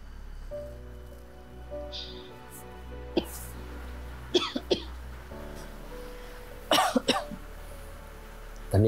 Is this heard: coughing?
yes